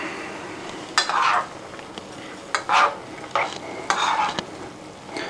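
Seasoned taco meat is stirred with a utensil against a pan in a few separate scraping strokes, each short and close, with quiet gaps between them.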